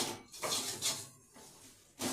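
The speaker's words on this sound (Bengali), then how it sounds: "এরপর আমি কেটে রাখা সজনে ডাঁটাগুলোকে মশলার সাথে মিশিয়ে নিচ্ছি, মিশিয়ে খুব ভালোভাবে এগুলোকে কষিয়ে নিচ্ছি।" Drumstick (moringa) pieces being stirred with spices in a cooking pan, giving a few scraping, clinking strokes of a utensil against the pan in short bursts with brief pauses between them.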